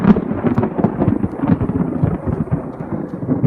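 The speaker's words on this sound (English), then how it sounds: "It's about 3-4 seconds between the flash and the thunder." Thunder from a lightning strike about a couple of miles away during an outdoor run, a loud, rolling low rumble with uneven crackling surges that lasts the whole stretch without any voices.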